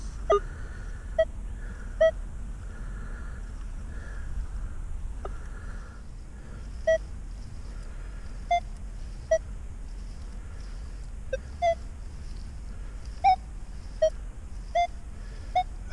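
Minelab Equinox 800 metal detector set to ground balance, speed 5 and iron bias 0, passed over a dime buried nine inches deep in a park: a steady faint hum carries a series of short, evenly spaced beeps, about a dozen in all.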